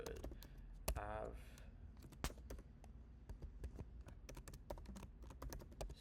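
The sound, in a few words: typing an address on a computer keyboard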